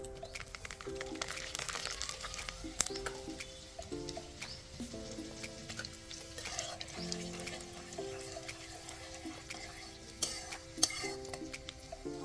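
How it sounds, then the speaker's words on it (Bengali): Whole garlic cloves frying in oil with dried chillies and bay leaves for amla pickle, a soft sizzle under frequent clinks and scrapes of a stirring utensil against the pan, with quiet tonal background music. "রসুনগুলো আমাদের ভাজা হয়ে গিয়েছে।"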